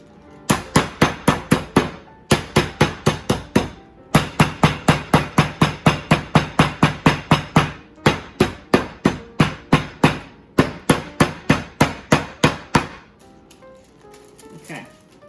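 Chicken breast for chicken Milanese is pounded with a meat mallet in steady, loud, sharp thuds, close up, coming in several fast runs with short pauses between them.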